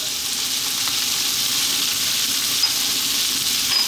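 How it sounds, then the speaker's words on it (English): Garlic and ginger sizzling in a vegetable noodle stir fry over high heat, a dense, steady hiss and crackle that fills the whole stretch, close and fairly loud, with no voices. "now I'm going to add in our garlic and ginger"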